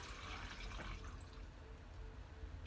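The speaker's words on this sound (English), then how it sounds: "Then I'm going in with my water." Water pours into a small blender cup while making Burmese chickpea tofu, a faint, steady splashing fill heard alone for a few seconds.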